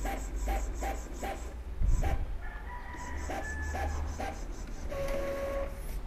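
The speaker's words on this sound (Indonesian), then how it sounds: "Dia sudah melakukan print" An Epson L3210 inkjet printer runs a page after ink charging, with a rhythmic mechanical ticking, a soft thump and whirring feed motors, close and steady.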